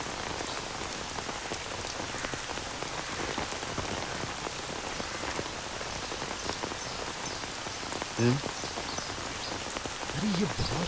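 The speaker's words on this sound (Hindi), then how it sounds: "ये बहुत तेज बारिश हो रही है" Heavy rain pours steadily as a dense, continuous hiss, with a couple of brief low tonal sounds near the end.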